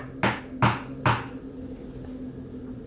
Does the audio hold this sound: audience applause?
no